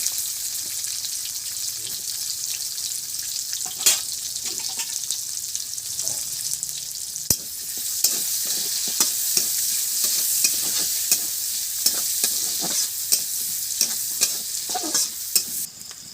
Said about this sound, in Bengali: এই তেলগুলোর মধ্যে পেঁয়াজ দিয়ে দিলাম